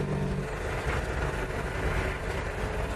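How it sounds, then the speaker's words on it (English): A CAT compressed-air car developed by Guy Negre runs with a steady mechanical drone and hiss, moderately loud and unbroken, with no voices over it. "It's a car that runs on compressed air"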